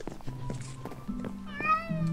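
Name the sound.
cat meowing in the video game Minecraft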